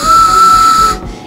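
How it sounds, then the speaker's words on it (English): A single loud, sustained whistle blast holding one steady pitch for about a second, then cutting off sharply. "It's a train whistle."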